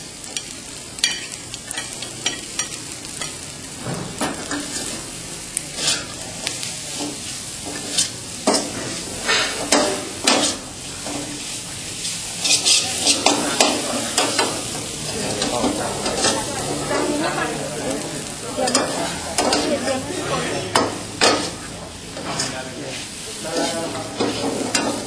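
Pad Thai noodles stir-fried with bean sprouts and chives, a steady loud sizzle and hiss with repeated scraping stirs of a spatula in the pan throughout, close by.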